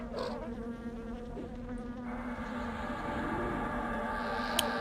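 Bees in the online role-playing game EverQuest drone with a steady, continuous buzzing hum, moderately loud and unbroken for several seconds amid faint game ambience.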